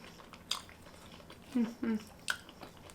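Someone bites into and chews a vegan brunch dish that tastes like pizza, with a few close crunchy bites and wet chewing over a quiet room.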